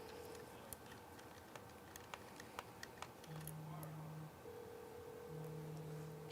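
A telephone rings indoors in steady electronic tones, one stretch in the middle and another near the end, over faint ticking clicks and low background hum.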